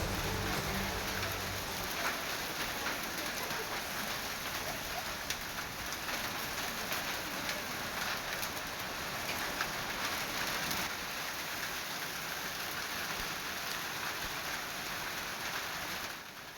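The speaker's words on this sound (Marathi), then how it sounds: "अवकाळी पावसानं झोडपून काढलंय" Heavy unseasonal rain with hail in a farming area near Bhor, Pune, a dense steady roar of downpour on surfaces throughout, with no voices.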